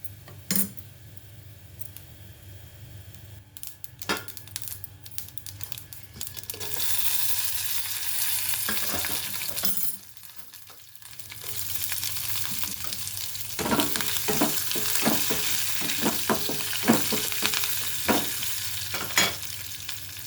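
Cumin, garlic, curry leaves and dried red chilies sizzle in hot oil as a tempering for raw mango coconut chutney, a close, steady frying hiss with occasional stirring clinks of a utensil against the pan.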